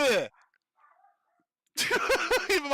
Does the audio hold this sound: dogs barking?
yes